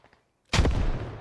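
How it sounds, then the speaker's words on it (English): Artillery shell from the video game Squad lands with a single loud, close blast after half a second of near silence, then a long rumbling decay. "Artillery coming down."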